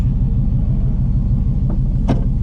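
A V8 Chevrolet S10 pickup's engine rumbles steadily and close, a low continuous drone with a couple of faint brief clicks near the end.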